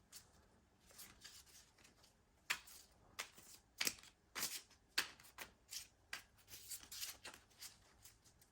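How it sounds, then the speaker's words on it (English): Tarot cards are shuffled in a series of quick, crisp riffles and soft slaps, close and fairly quiet. "I also have some pre-shuffled cards that I'm just going to do another light mix on."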